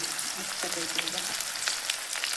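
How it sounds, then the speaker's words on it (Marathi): Onion, green chili and garlic frying in hot mustard oil, a steady close sizzle with crackly pops throughout, no voices. "आता कांदा हिरवी मिरची लसण तळून घेतलं"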